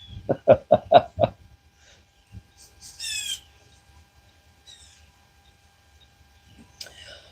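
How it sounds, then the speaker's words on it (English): A short burst of voice, then scattered high bird chirps and calls outdoors at dawn in a quiet setting, coming in brief separate phrases. "Birds are singing"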